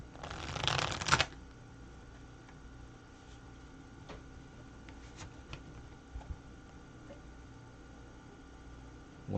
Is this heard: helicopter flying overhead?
no